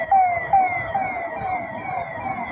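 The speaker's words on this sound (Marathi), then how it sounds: "माजी मुख्यमंत्री उद्धवजी ठाकरेंचा कॅनवॉय चाललाय" Wailing sirens from a former chief minister's convoy in Pune pass through a traffic-stopped junction, several overlapping tones sweeping up and down loudly over steady road noise.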